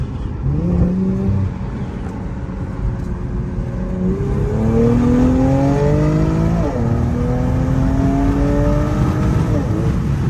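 A tuned 450whp AWD Infiniti Q50S accelerates hard on a highway turnpike, its engine note heard from inside climbing through several gears in rising sweeps with brief dips at each shift, over steady road and wind roar.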